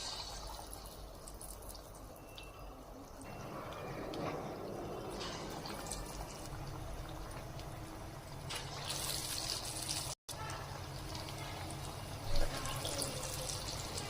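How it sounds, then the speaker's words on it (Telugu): Corn vadas (maize garelu) sizzle steadily in hot oil, a dense crackling hiss that swells midway and runs continuously throughout, close and fairly loud, with no talking. "ఆయిల్ వేడెక్కిందండి, గారెలు వేసుకుందాం ఇప్పుడు."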